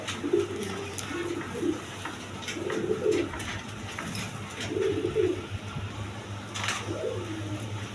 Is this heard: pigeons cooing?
yes